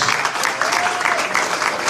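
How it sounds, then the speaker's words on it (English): Steady crowd applause for Hall of Fame inductees at a ceremony, a dense continuous wash of clapping at even loudness with no voices over it. "another round of applause for C.W."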